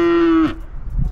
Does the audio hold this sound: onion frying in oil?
no